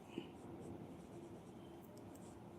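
A pen scratches continuously on paper as a maths function is written out, a faint, close, steady scraping over low room hum.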